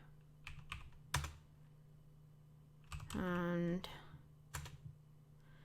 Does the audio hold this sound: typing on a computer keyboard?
yes